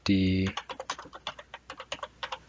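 A computer keyboard is typed on during a networking lesson. A short electronic tone comes first, then a run of crisp, evenly spaced keystrokes sounds close and clear, at a steady rhythm.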